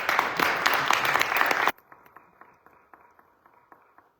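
Audience applause at a discussion panel swells briefly, dense and fairly close, then stops abruptly, leaving only a few faint, scattered claps and small sounds in a quiet room.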